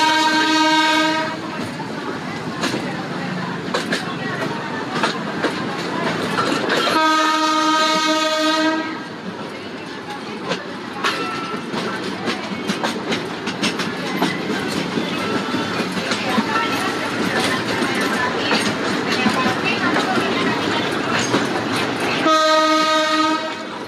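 A train on the tourist railway between Ambarawa and Tuntang, Indonesia, rumbles past with rattling, clattering wheels, and its horn blasts loudly three times: at the start, midway, and again near the end.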